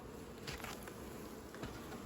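A steady, faint honeybee buzz hums continuously with a few brief swells, like bees droning nearby at an apiary.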